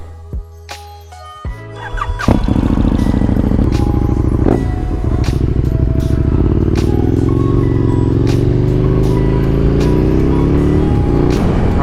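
KTM Super Duke R motorcycle with a 1.3-liter V-twin and Wings exhaust starts up and idles loudly, then revs into a deep, steady rumble with crackling pops, close and dominant, no talk over it.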